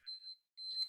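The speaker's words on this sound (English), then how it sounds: "that's my alarm" A phone alarm sounds in short electronic beeping tones, a brief pair of pulses, a gap, then a longer tone, close by and clear in a quiet room.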